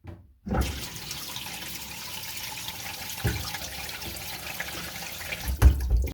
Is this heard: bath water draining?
yes